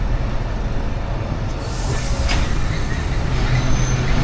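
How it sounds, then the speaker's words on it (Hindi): A passenger train in heavy rain rolls slowly toward a level-crossing gate, a loud steady rumble of wheels and carriages with faint brake squeal and no talk. "गेट के ऊपर आके ट्रेन रुक रही है, स्लो हो चुकी है।"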